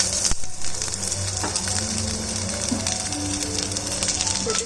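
Garlic frying in about a spoonful of oil in a surgical steel pan, a steady close sizzle with crackles running throughout, no talk over it.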